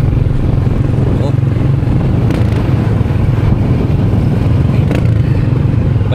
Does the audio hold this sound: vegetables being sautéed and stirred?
no